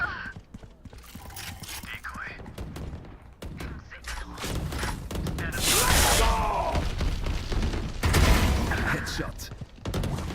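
Gunfire in a first-person shooter game, bursts of rapid shots and mechanical clatter building to loud dense volleys around the middle, mixed with game effects and a player talking over it.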